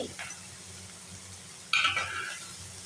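Chopped tomatoes stirred in a frying pan for a chilli-tomato sabji give a soft low sizzle. Partway through, a louder burst of spatula scraping and hissing is heard close up.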